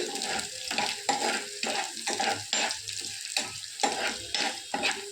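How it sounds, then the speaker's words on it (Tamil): Cashew nuts frying in hot oil in a pan on a home kitchen stove, a steady close sizzle with repeated stirring scrapes and no talk. "கேஷ்யூ நட்ஸ்லாம் லைட் ப்ரௌன் ஆகணும், அது வரைக்கும் ஃப்ரை ஆகும்"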